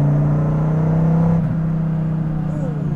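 A Dodge Viper GTS engine hums in a steady, low drone from inside the car, then the tone drops and shifts as it changes gear, with faint talk underneath.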